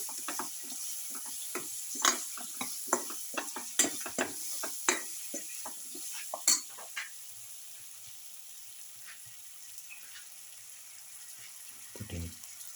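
Potato pieces frying in a pot with salt, giving a steady sizzle under repeated close scraping stirs for several seconds, then a quieter sizzle and a final clatter.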